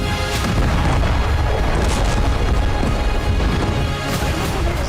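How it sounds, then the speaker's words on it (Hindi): A cargo ship blasts apart at sea after a ballistic missile strike, a loud, continuous deep rumbling roar with crashing, booming bursts that never let up, no voices. "जबरदस्त धमाके का ये वीडियो इजरायली मालवाहक जहाज का बताया जा रहा है, जिसे हूती ने समुद्र में बैलिस्टिक मिसाइल से उड़ा दी।"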